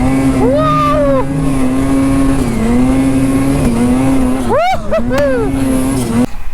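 A Ski-Doo or Polaris snowmobile engine held at wide open throttle, a loud steady high-pitched drone close by, with brief pitch dips and swoops near the end as the load shifts.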